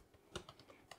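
Quick keystrokes on a computer keyboard while entering Linux commands to set up a PiDP-11 on a Raspberry Pi, a few soft uneven taps close by and quiet.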